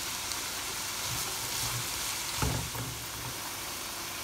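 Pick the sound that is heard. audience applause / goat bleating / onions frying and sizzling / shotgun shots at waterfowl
onions frying and sizzling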